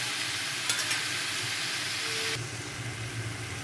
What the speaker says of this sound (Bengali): একটু ভালো করে এটাকে ভেজে নিতে হবে।